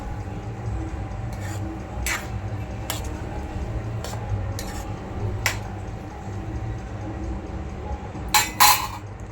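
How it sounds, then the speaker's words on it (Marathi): Vegetable curry of val beans, potato and drumsticks being stirred in a pot, with several sharp metallic clinks of a spoon against the pot and a louder clatter of the lid near the end, over steady background hum. "आता आपण परत जरा ढवळून झाकण मारूया."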